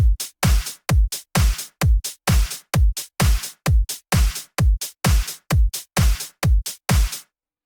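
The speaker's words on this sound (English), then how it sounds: "that's your first drum pattern on FL Studio" Punchy programmed drum loop made in FL Studio, with deep kicks, sharp claps and ticking hi-hats in a tight repeating beat, loud and dry, ending abruptly.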